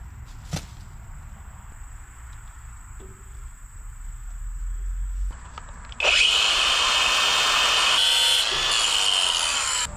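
A power drill whines loudly near the mic for several seconds, drilling out a part on an abandoned excavator so it will fit, its high-pitched motor rising sharply after a quieter stretch of background noise.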